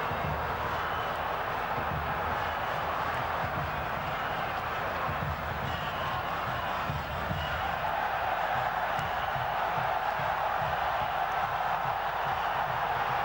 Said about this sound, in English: Crowd are furious.